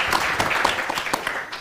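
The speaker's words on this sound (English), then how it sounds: "A big round of applause to Chandrababu Naidu garu." Audience applause at a panel event honouring Chandrababu Naidu, a dense, steady wash of clapping from a crowd, fairly close and filling the short stretch without speech over it.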